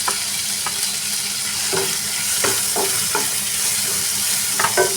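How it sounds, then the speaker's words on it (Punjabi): Tomatoes and finely chopped green chilli fry in a pan with garlic and ginger, a loud, constant sizzle broken by scattered clacks of a spoon stirring, heard up close with no talking. "ਲਸਣ ਅਦਰਕ ਭੁੱਜ ਗਿਆ ਹੁਣ ਇਹਦੇ ਵਿੱਚ ਆਪਾਂ ਟਮਾਟਰ ਪਾਉਣਾ ਟਮਾਟਰ ਦੇ ਨਾਲ ਕੱਟੀ ਹੋਈ ਬਰੀਕ ਹਰੀ ਮਿਰਚ"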